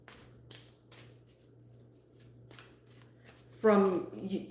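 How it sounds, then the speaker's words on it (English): Tarot-style cards are shuffled in repeated soft riffling bursts, fairly close and quiet over a steady low hum, before a voice speaks near the end. "I'm going to pull your truth card, Charlotte"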